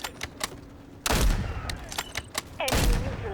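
Sniper rifle shots in a Battlefield-like video game: two loud, sharp reports about a second and a half apart, each trailing into a rumbling echo over faint background battle noise.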